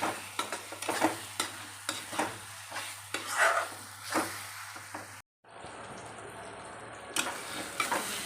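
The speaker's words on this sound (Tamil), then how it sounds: "இப்போ ரெட் சில்லி பவுடர் போட்டிருக்கேன் நல்லா சுருளாக வதக்கட்டும்" Brinjal masala with red chili powder sautéing in oil in a pan, a soft sizzle broken by repeated scraping stirs, then a brief cut to steadier, brighter frying hiss near the end.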